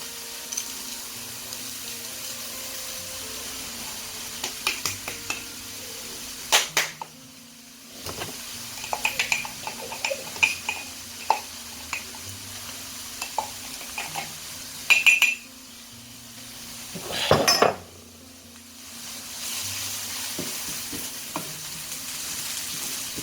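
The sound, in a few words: rice added and stirred in pan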